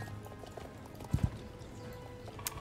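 Horse hooves clip-clop in the Star Stable video game during a race, a quick double strike near the middle over a low continuous game background, with no speech.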